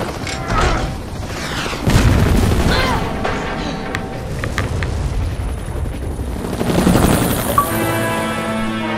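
Helicopter escape scene in the video game Resident Evil 5, with a rotor whir under booming impacts, bursts of gunfire and mechanical clatter, the loud game mix building and falling across the scene.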